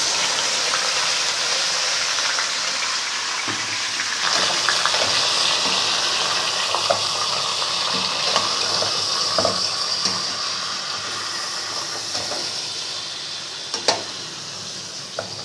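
Beef with black peppercorns, cinnamon pieces and bay leaves cooking down in a pot, a steady loud hissing sizzle with occasional spoon knocks and scrapes throughout, close up, with no speech.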